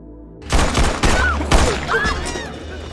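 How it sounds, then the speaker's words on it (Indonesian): A rapid burst of gunfire from an action film rings out in several loud, sharp shots and echoing volleys over about two seconds, followed by ricochet-like whines and a decaying tail. "Namun tiba-tiba mereka semua ada yang menembak."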